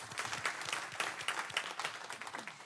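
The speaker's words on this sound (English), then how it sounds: "let's give one more round of applause" A council meeting audience gives a round of applause, a few dozen hands clapping in a lively, uneven patter that holds fairly steady at moderate volume.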